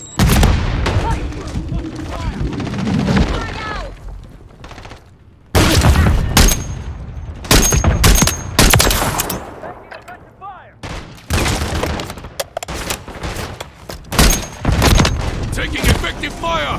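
Rapid, loud bursts of gunfire from Call of Duty Modern Warfare 3 multiplayer, with sharp repeated shots and booms in clusters, broken by a brief lull, while game voices call out over the shooting.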